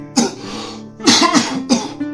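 Three hoarse, chesty coughs from a sick person with a persistent cough and high fever, the first a single burst and the last two coming in quick, loud clusters close to the listener, with no speech.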